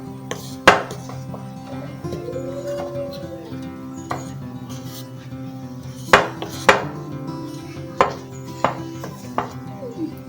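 Goli bajji batter is mixed by hand in a bowl, with sporadic sharp clinks and knocks against the vessel over a low steady hum.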